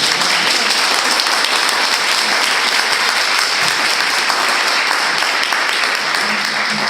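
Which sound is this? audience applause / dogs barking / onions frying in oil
audience applause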